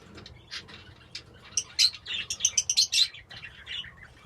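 Chicks from a lutino and painted bird pairing give high, rapid chirps and cheeps in clustered bursts, nearby and lively over a faint low background rumble.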